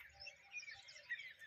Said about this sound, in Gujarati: અત્યારમાં એટલું મસ્ત પક્ષીઓનો કલરવ